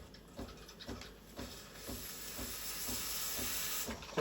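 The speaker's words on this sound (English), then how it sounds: "turn on the steamer. It'll take about 5 seconds to start steaming." Steam wand of a Breville Barista Pro espresso machine starting up, a steady rising hiss building over a few seconds with faint mechanical ticking beneath, close and fairly quiet, no talk.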